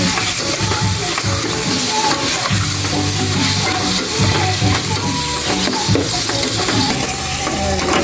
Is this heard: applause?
no